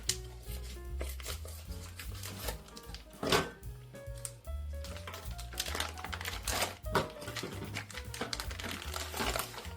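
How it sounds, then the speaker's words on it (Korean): Scissors snip through steamed Korean blood sausage (sundae) in a home kitchen, giving a steady run of close, soft crunchy cuts and crinkly packaging-like rustles over about ten seconds, with no voice heard. "이렇게 가위를 한번 잘라볼게요"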